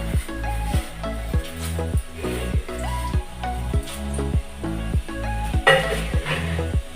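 Mustard seeds and cumin crackle in hot oil for a tomato charu, with rhythmic utensil taps and pops over a steady sizzle. A brief louder burst of spitting comes near the end.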